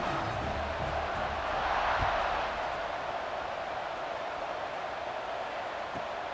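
Stadium crowd noise in the video game College Football 26, a steady, loud roar of many voices that swells briefly near the start and then holds as a continuous wash.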